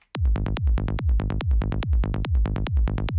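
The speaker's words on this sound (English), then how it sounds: "I just have a kick and bass here, which sounds like this." A deep electronic kick drum thumps in a steady four-on-the-floor pulse, locked with a booming bass line, loud and repetitive.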